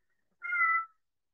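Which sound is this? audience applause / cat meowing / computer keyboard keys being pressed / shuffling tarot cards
cat meowing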